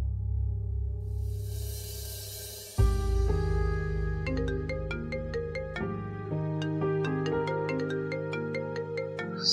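A mobile phone plays a melodic ringtone for an incoming call, steady and clear with repeating tonal notes after a brief low hum at the start, and no one speaks over it.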